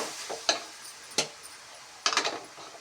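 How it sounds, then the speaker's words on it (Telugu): Beetroot curry stirred in a pan with oil, a few sharp scrapes and clinks of a spoon against the pan at irregular intervals over a faint sizzle, no voices. "అందుకే ఇలా పచ్చివాసన పోయే వరకు బాగా కలుపుకోవాలి."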